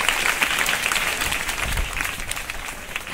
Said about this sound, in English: Clap, children. Give a round of applause.